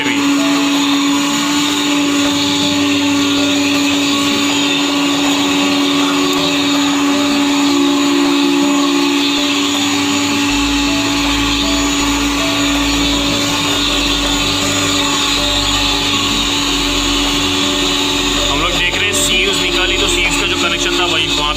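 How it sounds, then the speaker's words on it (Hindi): A vacuum cleaner runs with a steady, dense whine and rumble while cleaning the door and chamber connections of a domestic flour mill (atta chakki) under repair, continuous and close throughout with no pauses. "उसको भी हम लोग वैक्यूम से क्लीन कर लेंगे"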